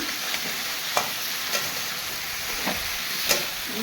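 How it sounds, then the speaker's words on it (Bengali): Fish-roe curry sautéing in a pan with ground coriander, dried chilli powder and bay leaves gives a steady, close hiss of frying, with a few brief stirring scrapes. "তরকারি এই ভালো করে কষে নিচ্ছি"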